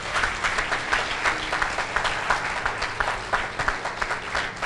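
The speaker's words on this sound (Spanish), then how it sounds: "Denle un aplauso al Señor." A church congregation claps steadily throughout, a dense, loud wash of applause filling the space with no voice standing out.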